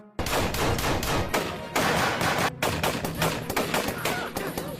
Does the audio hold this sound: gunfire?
yes